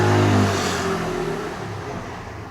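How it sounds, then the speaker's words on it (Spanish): A motorbike passes outside at 9:15, its engine loud and near at first, then fading steadily as it moves away over a couple of seconds. "que ha pasado la moto de las 9:15."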